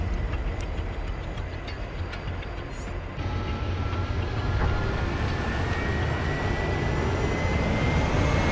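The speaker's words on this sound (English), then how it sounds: "There's a helicopter ready to move when you are." A helicopter in the Astral Chain video game gives off a steady, loud, broadband rotor and engine roar that holds unchanged from start to finish, with no voices.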